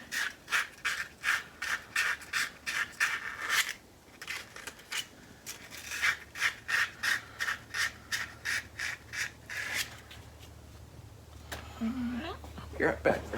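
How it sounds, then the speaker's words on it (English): Quick back-and-forth sanding strokes on a wooden slimline pen blank for woodturning, a steady rhythmic rasping burst of about a dozen strokes, a pause, then another run, close and clear with a low hum beneath. "Sand it up real quick."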